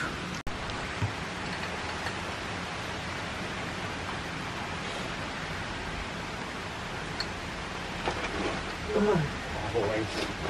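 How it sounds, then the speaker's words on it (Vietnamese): Rain falling outdoors on a windy day makes a continuous, even hiss with no breaks, joined by a few faint bursts of sound near the end. "vừa mưa luôn."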